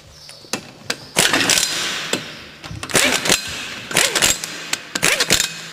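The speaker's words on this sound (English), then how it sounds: "We don't need to do that because we've got an air gun." An air-powered impact wrench tightens car wheel nuts in short, loud rattling bursts of hammering, several separate zips with pauses between them, heard up close.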